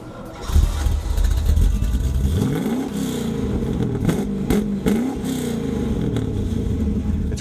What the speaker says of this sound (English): the MagnaFlow exhaust gives this car a sound that is just dynamite